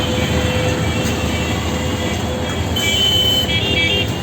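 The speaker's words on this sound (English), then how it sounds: "These vehicles are coming from Rajarhat main road" Continuous roar of road traffic passing on Rajarhat main road, with a steady engine rumble and high-pitched horn toots near the end, fairly loud and close.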